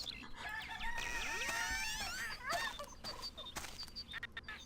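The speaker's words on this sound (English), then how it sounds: "Oh, don't let the rooster out." A rooster crows repeatedly in the farmyard of the video game Dragon Lore, several drawn-out cock-a-doodle-doo calls close by, with clucking fowl and a turkey's gobble mixed in and no talking.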